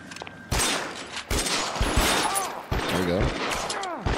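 Gunfire in L.A. Noire during a shootout with enemies on high ground: several loud, sharp shots with ringing tails at irregular intervals, close by, with a voice talking between them.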